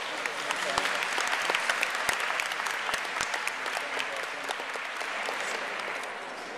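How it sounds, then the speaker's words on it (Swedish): Warm applause from a crowd at a Stockholm dog show honoring scholarship winners, dense continuous clapping with a few sharp louder claps standing out nearby, and faint voices underneath. "Då ger vi dem en applåd"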